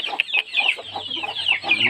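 Hens cluck in quick, uneven bursts close by on a fighting-chicken breeding farm, a busy run of short clucks with a low hum underneath.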